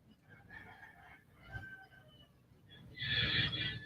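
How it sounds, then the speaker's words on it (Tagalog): Rooster crowing and chickens clucking in a backyard flock, with a loud crow rising near the end over softer scattered clucks and background noise. "Ingay ng mga manok ko."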